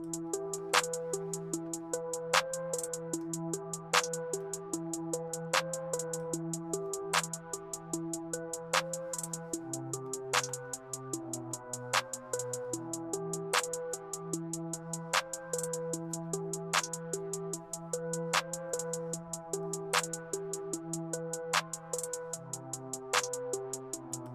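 A steady trap beat with a sharp clap landing on beat two of every bar over rolling hi-hats, bass, and a looping melodic line.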